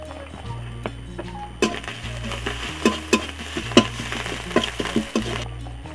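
Chili powder hitting hot oil alongside ginger paste while cauliflower singara filling is cooked: steady sizzling frying with repeated sharp spatula scrapes and clinks against the pan, close and fairly loud.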